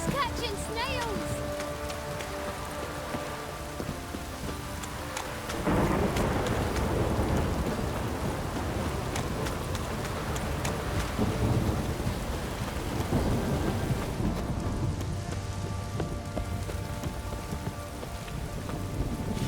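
Heavy rain and thunder in a downpour within the video game The Witcher 3: Wild Hunt, steady rain hiss with deep rolling thunder surging partway through, while characters talk over the storm.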